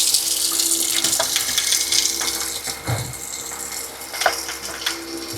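Steady running water from an outdoor tap washing the blade of a Vornado 750 fan, a continuous broad hiss with small splashes and a couple of brief clinks, fairly close and loud.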